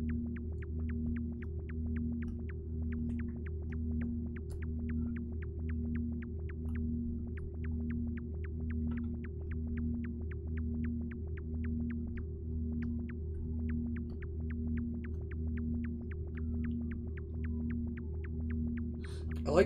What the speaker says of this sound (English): it's like it's almost like a mechanical hum, like a refrigerator